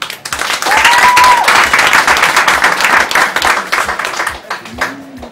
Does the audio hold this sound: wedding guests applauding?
yes